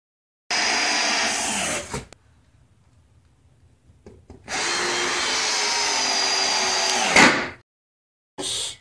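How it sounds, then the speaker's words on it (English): A power screwdriver drives screws into concrete floor boards in two loud, sustained whirring bursts separated by a quiet pause, each ending in a short strained peak, followed by a brief third start. "Finish screwing all the concrete boards on the floor"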